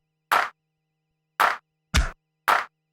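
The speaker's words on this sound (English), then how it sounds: "this is what it sounds like with just the MPC, kick and clap" A sparse MPC drum machine pattern of dry clap hits and a punchy kick, four hits spaced irregularly with silence between, close and clean.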